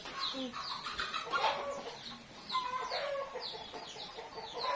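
Several chickens cluck and chatter close by in a rural Lao village setting, with busy, irregular calls overlapping throughout. Faint speech surfaces briefly among them.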